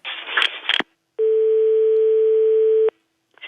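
Telephone line tone heard while calling a mobile phone: after a short burst of noise, a single steady ringing tone holds for nearly two seconds, then cuts off before a faint sound at the end.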